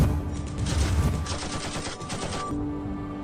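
Rapid bursts of gunfire during an attack in Mukondi crackle continuously, dense and overlapping like a sustained volley, with a low rumble underneath before thinning out near the end.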